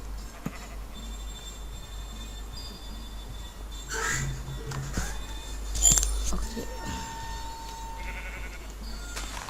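Sheep bleating in Minecraft survival gameplay, a few brief bleats rising midway over low hum and scattered game noises, with a short spoken word near the end.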